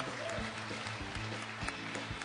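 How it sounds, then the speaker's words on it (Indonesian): Applause from a stand-up comedy show audience, broad and steady under some faint talk and background hum, moderately distant. "Kasih tepuk tangan dulu mereka semuanya"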